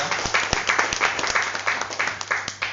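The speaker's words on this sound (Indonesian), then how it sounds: "Tepuk tangan dulu buat Pronas" Audience applause at a health product presentation seminar, a room of people clapping in a dense, lively patter with some louder close claps punctuating it, fairly loud throughout.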